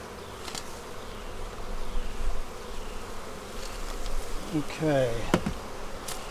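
Honey bees buzz densely around an open hive as they are moved into a bee barn, a close, continuous drone with individual bees whizzing past, punctuated by knocks and clicks of frames; a person speaks briefly.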